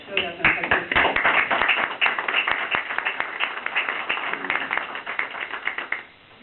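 Audience clapping at a council meeting in Pacific, a dense patter of hand claps that holds steady for several seconds before tapering off, with a voice or two blended in.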